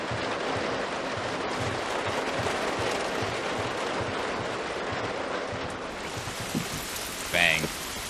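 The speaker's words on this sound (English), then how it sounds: "Isn't rain, like, good for sneaking, though?" Heavy rain in the video game The Last of Us pours down as a loud, even wash of rain on hard surfaces, with a faint brief voice and a short thump near the end.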